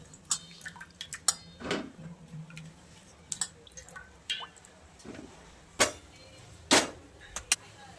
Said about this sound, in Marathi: शेंग अशी धुवून घ्यायची मस्त.